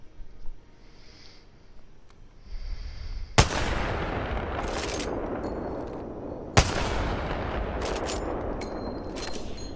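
A heavy weapon fires in the video game Apex Legends, sounding like an anti-tank cannon: two sharp, booming shots a few seconds apart, each followed by a long rumbling echo over a low roar.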